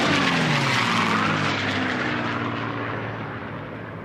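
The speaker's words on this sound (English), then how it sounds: "And we watch these 3 aircraft as they're coming around" Propeller race aircraft pass at the Stihl National Championship Air Races, a loud, dense engine and propeller roar that sweeps by close and then gradually fades, with no talk.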